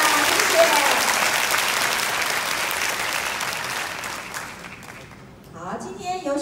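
A packed audience applauds in an auditorium during the Taiwan Railway 131st anniversary celebration. The clapping is loud and sustained, then thins out and fades, and a voice comes in at the very end.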